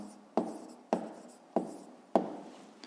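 Pen writing down an answer during a fifth-grade maths exercise, heard as four distinct scratchy strokes spaced evenly apart, close and moderately quiet, with no voices.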